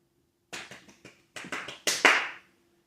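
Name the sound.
audience applause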